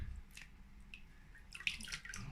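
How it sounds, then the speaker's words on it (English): A dyed T-shirt is rinsed in water, with faint splashing, drips and sloshing in a quiet indoor space, soft and close with a few brighter splashes near the end. "Drop it in here, rinse it out,"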